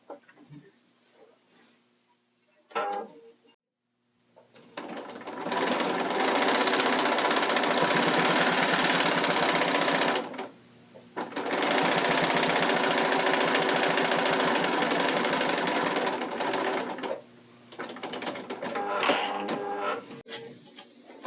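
A sewing machine stitching a quarter-inch seam on pieced binding for a hot pad, running in long steady whirring bursts with brief stops between, close and loud.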